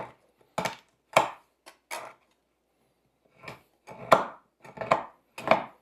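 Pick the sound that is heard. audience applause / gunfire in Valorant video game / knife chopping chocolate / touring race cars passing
knife chopping chocolate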